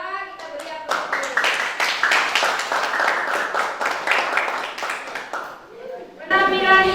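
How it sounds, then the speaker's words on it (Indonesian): A classroom audience applauds as group 2 returns to their seats, a burst of close, dense hand clapping lasting several seconds, with a speaking voice before and after it. "kembali ke tempat duduk untuk kelompok 2, kita beri aplaus"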